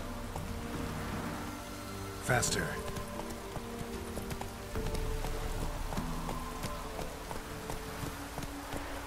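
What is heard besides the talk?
rain in the video game The Witcher 3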